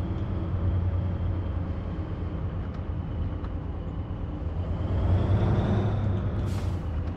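In the Truck And Logistics Simulator 2024 video game, a truck's engine rumbles low and steady alongside an air brake hiss, with a brief louder swell near the end and no one speaking.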